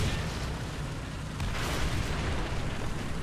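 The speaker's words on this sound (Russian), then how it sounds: "По мне боты стреляют." Shots from bots striking a player's T-34 tank in War Thunder, heard as a dense, continuous roar of gunfire and booming impacts blended into steady loud battle noise, with no talking.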